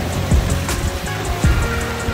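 A waterfall at Cascade Délices on Réunion Island rushes as a steady, full broadband roar, with no voices and a couple of faint low thumps beneath it.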